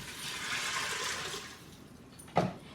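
Water pours steadily into a Pampered Chef Quick Cooker holding black beans and salt, a broad hissing gush for about two seconds that then fades, followed by a brief clunk.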